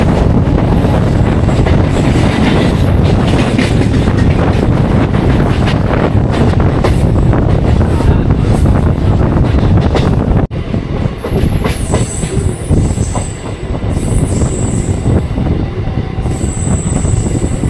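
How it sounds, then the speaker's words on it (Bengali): A Howrah local Alstom train runs with loud, continuous rumble and rattling wheels, then high, piercing wheel squeals break out in several drawn-out bursts over the final stretch. "টাউনে হাওড়া লোকাল অ্যালস্টম ব্রেক।"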